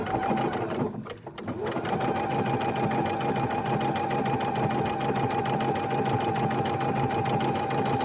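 A foot-pedal sewing machine set for 4-way stitching runs loud and close, a fast steady whirring hum with a brief dip near the start before settling into a continuous run.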